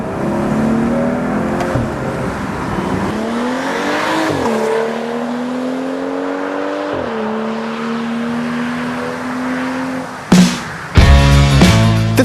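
A BMW 335i's engine and exhaust drone steadily and loud, the pitch climbing and shifting through gear changes over several seconds, then a short sharp rev burst and a brief louder roar near the end.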